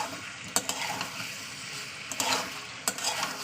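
Potatoes, spices and tomato sautéing together in oil for an egg-potato curry, a moderate sizzle broken by a few spatula scrapes and clinks against the pan, nearby and without talk.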